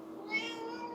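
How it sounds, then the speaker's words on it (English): A pet cat meows somewhere in the background of a quiet indoor room, one drawn-out, fairly faint call lasting about a second. "You can hear my cat in the background."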